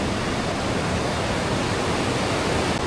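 A mountain stream or waterfall at Sittong, West Bengal, rushes as a loud, steady, broadband roar of falling water with no breaks.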